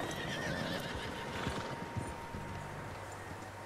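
Horses in the Red Dead Redemption 2 video game: a clear whinny rises over steady hoof clip-clops and background wind, moderately loud and close, with no speech.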